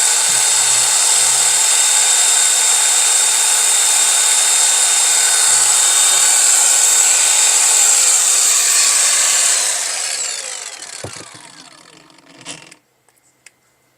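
Cordless brushless angle grinder from Metabo or Makita running at steady high speed, a loud continuous whine that holds for about ten seconds, then spins down and fades with a few clicks and handling knocks at the end.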